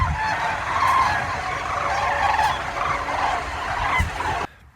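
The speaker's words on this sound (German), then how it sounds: "Da fliegen die Kraniche und Gänse Richtung Süden." Cranes and geese call as a flock flies south overhead, a steady chorus of honking and trumpeting cries with repeated rises, fairly loud and continuous for several seconds before cutting off abruptly.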